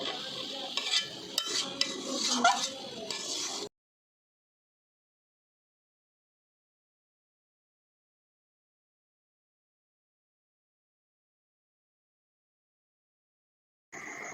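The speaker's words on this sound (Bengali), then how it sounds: "আমরা কিন্তু ভালোভাবে নেড়ে নিচ্ছি।" A sesame, coconut and fried-rice laddu mixture is stirred in a pan. A few seconds of close scraping and shuffling give way to long silence, then a brief return at the very end, with no voices.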